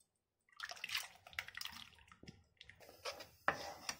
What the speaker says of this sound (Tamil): கடாயில் ஊற்றிக்கலாம்.